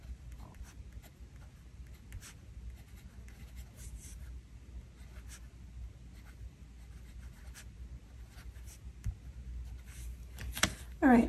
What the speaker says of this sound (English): Then I wanted to do some writing.